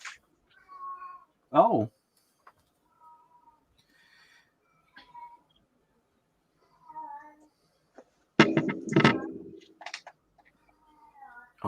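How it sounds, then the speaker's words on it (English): Shy domestic house cat meowing several times, from short chirpy mews to one long wavering cry and a loud drawn-out yowl, close by, with a person murmuring briefly in between. "She won't come and photo bomb, but she will sit there and meow."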